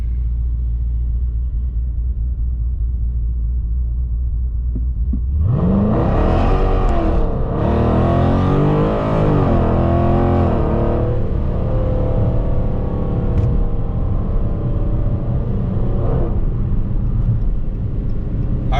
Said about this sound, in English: that first pull was probably about half throttle, so we'll do the same thing, probably about half throttle